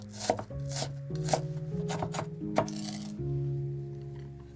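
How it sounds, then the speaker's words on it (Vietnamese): A knife mincing 20 g of shallots on a cutting board, with a quick run of sharp chopping taps that cluster and pause, close up and clear over a soft musical background. "Hành tím thì mình dùng 20g, cũng băm nhuyễn ra luôn ha."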